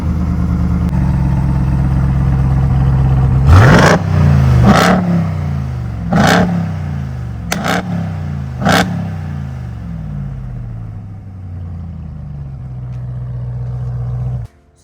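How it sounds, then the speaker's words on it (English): Ram TRX pickup's stock 702-horsepower supercharged Hellcat V8 idles with a deep rumble, then blips through five sharp revs in quick succession before settling back to idle, loud and close with no talk. "If any truck on the market is going to sound this good, firing up, revving it."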